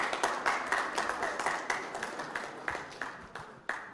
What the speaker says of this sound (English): So a round of applause to our guests